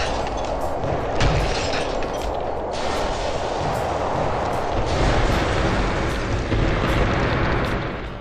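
A nuclear blast in the City Smash destruction game roars as a dense, sustained rumble filling the whole span, with a few sharper bursts breaking through the steady loud wash.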